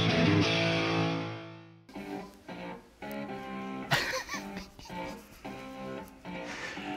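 A recording opens with a thick, distorted electric guitar chord. After about two seconds the music drops in level and carries on more quietly.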